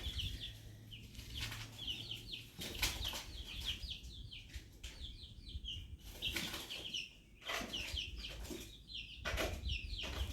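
Young chicks in a clear plastic bin flap their wings in repeated bursts and cheep and cluck in high, busy chatter, close and lively throughout.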